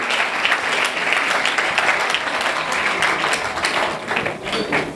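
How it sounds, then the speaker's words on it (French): A hall crowd applauds football tournament teams at a draw event, a dense, steady wash of clapping that holds throughout and sits close and fairly loud. "Ils méritent aussi les applaudissements"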